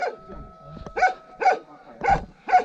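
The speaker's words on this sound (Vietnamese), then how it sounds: "chó sủa rất là ác" Dog barking fiercely at a remote mountain house where bees are kept, four sharp barks in an even rhythm, close and loud, with brief vocal sounds before them.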